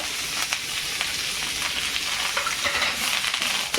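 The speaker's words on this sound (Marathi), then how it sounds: "कडीपत्त्याचा कसा आवाज येते" Washed curry leaves roasting in oil in a pan, crackling and sizzling densely and continuously at close range, with a few faint spoon clicks and no speech.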